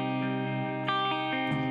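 Clean electric guitar tone drenched in heavy reverb on a Line 6 Helix or HX Stomp, a few sustained chords ringing out smoothly and blending into long, washy tails with no talking.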